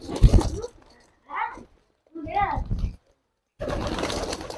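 Pigeons cooing softly in a few short, warbling bursts separated by quiet gaps, close by while being hand-fed, with bits of indistinct chatter around them.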